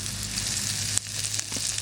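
Cumin seeds sizzle loudly in hot mustard oil for a fish curry with papaya, a steady close frying hiss with a brief crackle midway.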